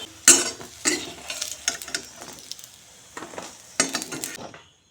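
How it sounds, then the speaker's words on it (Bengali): Potatoes frying in a pan with a little turmeric and salt while being stirred, close bursts of sizzle and scraping with light clinks of utensil on metal, easing toward quiet at the end, no talking. "এখন আলু বেজে নিচ্ছি সামান্য হলুদ গুঁড়া আর সামান্য নুন দিয়ে আলু বেজে নেব"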